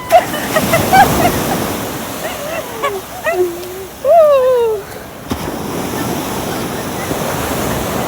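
Sea surf washes steadily at a beach on a morning outing, a broad ongoing rush of waves with wind buffeting the microphone, while someone talks over it and whistle-like bird or voice sweeps rise in the middle.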